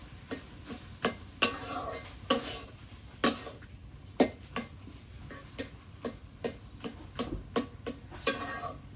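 A spoon stirs taro leaf mash in a pan with sharp, uneven knocks and scrapes, close and fairly loud, over a soft steady hiss with no talking.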